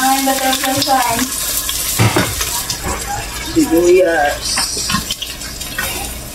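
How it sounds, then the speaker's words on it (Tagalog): Garlic and onion go into a pan for pork sinigang, with utensil clatter and stirring against the pan and a light sizzle running throughout. A voice speaks intermittently over the cooking noise. "Lagay tayo ng bawang, sibuyas,"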